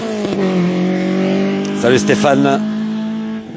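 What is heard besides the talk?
race cars at the Pourville-sur-Mer hill climb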